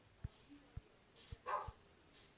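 A dog barks in the Minecraft modpack game Hexxit, a few short sharp yips scattered over two seconds, fairly faint and close, with quiet game sounds between them.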